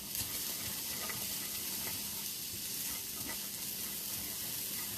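Onions and pepper sizzle in a hot pan, a steady, dense frying hiss with faint crackles that holds evenly from start to finish.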